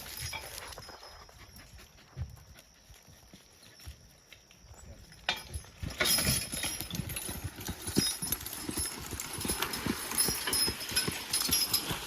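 Hooves of a pair of two-year-old draft horse colts, hitched together, clip-clop steadily on hard ground, faint at first and then louder and closer as the horses draw near, with a light jingle of harness.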